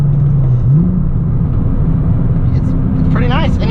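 A VR6 engine in a Volkswagen Golf GTI hums and rumbles steadily from inside the car, a low drone with faint revving, loud and continuous throughout.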